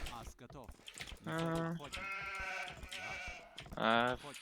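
Several drawn-out sheep bleats in a row from a video game, bright and close, with a few soft clicks between them.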